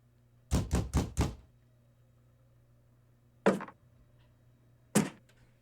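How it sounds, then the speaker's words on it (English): Knocking in the video game Cooking Companions: four quick knocks in a row, then two single knocks after long pauses, sharp and hollow against a quiet low hum. "You hear that knocking behind you."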